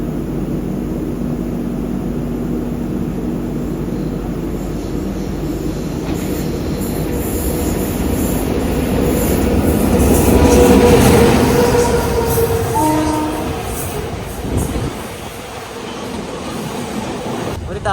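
A freight train hauled by a WDG4G diesel locomotive rolls past, giving a continuous rumble and clatter that swells toward the middle and then eases, with brief wheel squeals and a faint voice in the background.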